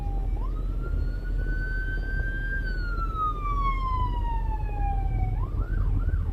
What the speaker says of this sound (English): So it's an ambulance coming up here behind us.